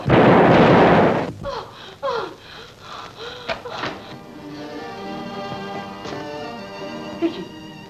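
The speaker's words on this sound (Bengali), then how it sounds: "আমি গুলি করবো, আমি গুলি করবো।" A gunshot in a Bengali movie scene: one loud, close blast that fills the first second and then fades, followed by a quieter stretch of tense talk and breathing.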